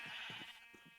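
Several short bleats from sheep on a farm in a video game, a quick series of faint calls over a steady high-pitched background hum.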